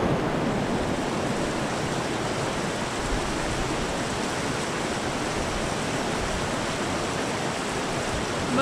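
Rushing water roars steadily from a waterfall, a dense, unbroken wash of noise with no pauses or voices.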